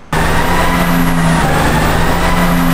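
Diesel truck engine running hard on a dynamometer on co-op diesel fuel, a loud steady droning roar with a constant low tone throughout, no talk over it.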